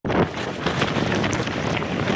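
Strong wind on a hilltop at Governor Hill in Saputara roars and buffets the microphone, loud and continuous throughout the short stretch.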